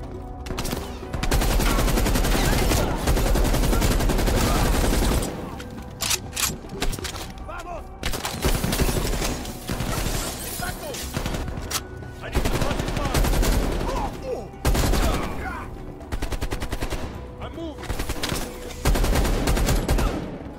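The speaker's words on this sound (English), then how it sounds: "They're shooting at us!" Gunfire in the Call of Duty Black Ops Cold War video game, with loud bursts of automatic fire and repeated shots in dense clusters, separated by brief lulls, mixed with shouting voices and game effects.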